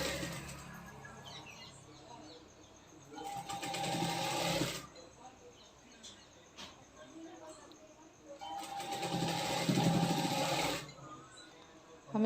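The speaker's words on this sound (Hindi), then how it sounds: "हमें दूसरे हिस्से में भी सिलाई लगा लेनी है इसी तरह।" A sewing machine stitches a katori blouse in two long, steady runs of close needle whirring, with quieter handling and someone speaking in the pauses between.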